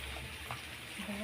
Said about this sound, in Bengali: এবার কিছুটা সরষের তেল দিয়ে দেবো।